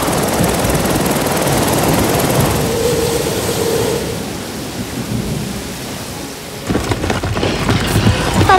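Heavy rain pours steadily while thunder rumbles through, with a loud crack and rolling boom near the end.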